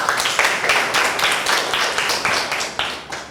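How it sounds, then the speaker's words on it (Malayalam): A studio audience claps steadily through a comedy game show, with a dense, even wash of applause, close and fairly loud, and no voices over it. "കയ്യടി."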